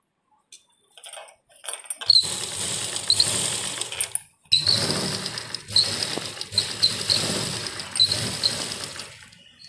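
Sewing machine stitching fine piping onto a sleeve, a fast rattling whir starting and stopping in several runs with short pauses between, close and steady, no voices.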